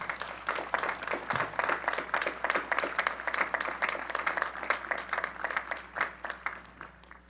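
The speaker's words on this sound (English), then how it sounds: "Let's give them all a round of applause" An audience at a Class of 2020 commencement ceremony claps steadily, dense, even applause from many hands filling the hall at close range throughout.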